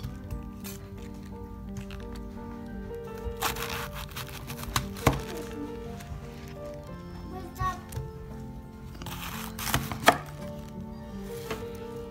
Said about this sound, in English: I minced about 2 cups of ginger as well.